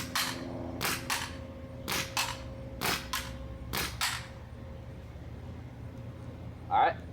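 An Etek 3 paintball marker fires test shots outdoors, five sharp pops spaced about a second apart, loud and close, followed by a brief pause and a softer sound at the end.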